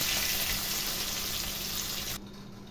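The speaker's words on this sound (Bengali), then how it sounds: "এবার আলুটা একটু আমি ভাজা ভাজা করে নেব" Steady hiss of potatoes frying in hot oil, loud and close, cutting off abruptly near the end.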